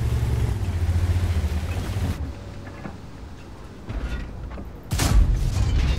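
A tank cannon fires in World of Tanks, a heavy boom erupting near the end after a stretch of rumbling engine noise and quieter battle ambience.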